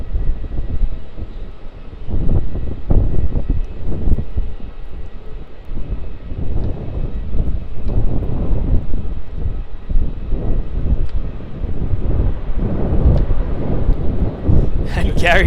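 An airliner on runway 16 at Melbourne Airport gives a low, rumbling engine noise with gusty wind buffeting, while a person talks over it throughout.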